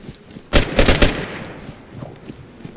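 Gunshots in the survival game DayZ, a quick cluster of sharp reports fired in rapid succession, then fading echoes and quieter ambient sound.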